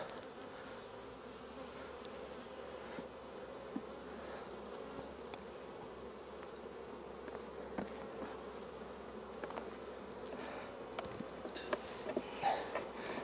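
Honey bees from a broken-down hive buzz steadily and close, a dense continuous drone from many insects with a few louder passes near the end, no talk.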